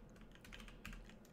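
Rapid typing on a computer keyboard while coding a C++ and SFML game, a dense run of close, clicky keystrokes at an uneven pace with no talking.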